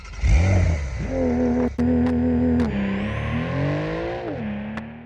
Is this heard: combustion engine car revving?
yes